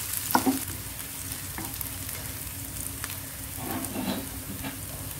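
Garlic and ginger fry in a pan for a spinach dal curry, giving a soft, steady sizzle with a few brief scraping stirs near the start and again toward the end, and no voices.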